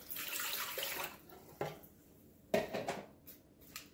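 Water pours into the pan of an SKG bread machine, a brief splashing stream followed by a few short clinks and splashes, close and alone.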